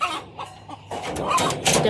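A brooding hen sitting on her eggs clucks close by in short, irregular bursts, with some rustling and faint background noise between the calls.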